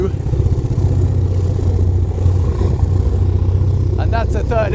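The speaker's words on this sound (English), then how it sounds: "We've got all three engines running now on straight through exhausts" Three diesel engines on a WWII gunboat run together through straight-through exhausts, producing a loud, continuous throbbing rumble close by, with a brief voice near the end.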